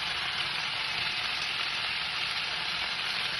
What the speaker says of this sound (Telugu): ఇలా నేను ఇప్పుడు కూరగాయ ముక్కలని యాడ్ చేస్తాను.